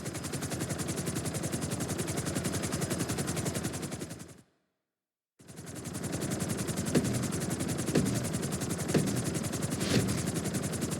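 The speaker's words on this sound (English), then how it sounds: "we're going to put you in a helicopter for this lesson" Helicopter in GTA V flight school, a video game: a loud, steady rotor chop with dense rapid blade pulses fills the scene, broken by a brief full silence midway, then resumes with a few sharper knocks.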